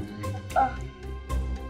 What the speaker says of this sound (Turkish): Küçük bir köpecik sıkışmış.